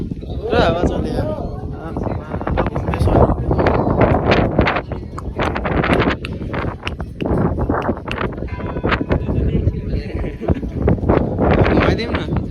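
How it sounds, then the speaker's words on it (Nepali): Strong wind roars and buffets the microphone outdoors in Thamel, Kathmandu, a loud continuous rumble under people talking nearby. "पुरा हावा चल्यो यार"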